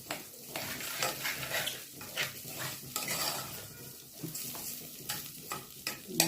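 Rice frying in a pan is stirred with a spoon, giving repeated scraping strokes and light clinks of metal over a soft sizzle, close and fairly quiet.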